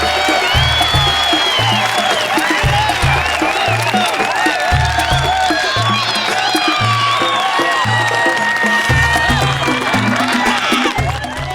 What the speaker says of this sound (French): Et on applaudit les Togolais